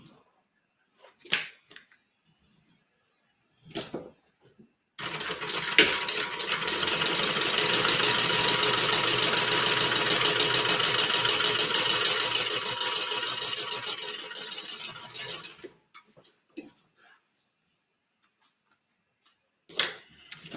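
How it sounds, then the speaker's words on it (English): A sewing machine stitches beside the decoville, a steady mechanical whir with fast ticking that runs for about ten seconds, bracketed by a few handling taps and clicks before and after. "see here how I just sewed beside the decoville"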